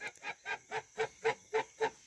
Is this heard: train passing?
no